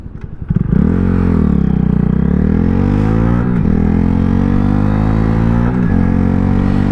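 A 2025 Honda Grom motorcycle fitted with a Zoom Loop full exhaust, its engine revving up from a stutter into a loud, sustained buzzing drone with slight pitch shifts as it rides, heard up close with no talking.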